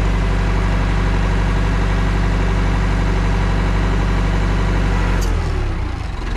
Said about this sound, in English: I give it a bit of revs and it'll go up quicker.